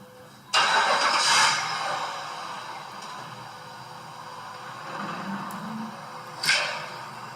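A pickup truck engine roars up abruptly and then settles into a steady, moderately loud drone as it hauls on a fiberglass window sash chained to a forklift, with a brief rev near the end.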